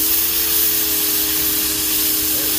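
A Powryte 3800R electric pressure washer blasts a stubborn dark spot, giving a loud, steady, unbroken spray hiss with a constant motor hum running beneath it the whole time.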